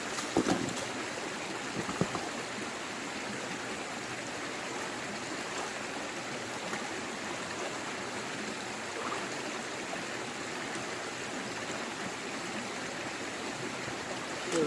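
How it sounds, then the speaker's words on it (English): Creek gravel and water being swirled in a gold pan beside a flowing creek, a steady rushing water wash throughout with a few brief splashes near the start. "let's pan this out and see if there's any flecks in it"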